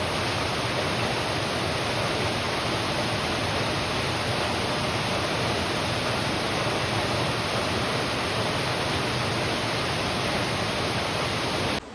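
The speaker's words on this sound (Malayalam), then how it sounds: "ഒരു ഒന്നരയൊക്കെ കഴിഞ്ഞ് തുടങ്ങിയ മഴ നല്ല ശക്തിയിൽ പെയ്തുകൊണ്ടിരിക്കുക" A dense, steady roar of heavy rain pours without pause, loud and unbroken throughout, with no voices.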